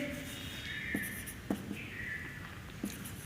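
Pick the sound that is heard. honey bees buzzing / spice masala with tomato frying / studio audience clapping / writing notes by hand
writing notes by hand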